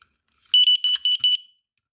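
A combo smoke and carbon monoxide alarm shrieks on test with five rapid, piercing high beeps in a quick burst, loud and close, then silence.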